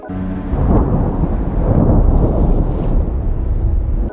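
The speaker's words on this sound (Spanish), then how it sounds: "una tormenta repentina que se acerca de una forma muy rápida" Deep rolling thunder from a sudden, fast-approaching storm on a high mountain, a loud sustained rumble that swells and lingers for several seconds with no other sounds.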